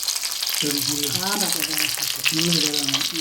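Fish pieces coated in masala fry in hot oil in a pan, giving a steady, loud sizzle throughout while a person talks over it.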